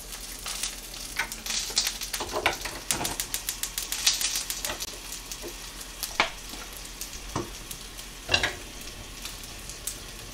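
Black bean paste frying in cooking oil in a pan, with a steady crackling sizzle and sharp spattering pops and occasional stirring scrapes, close and continuous, with no talking.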